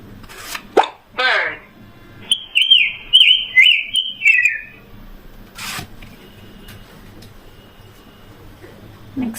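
A kids' learning toy card reader plays a recorded bird call, a burst of bright chirps and tweets in the middle, framed by short electronic blips and clicks from the device.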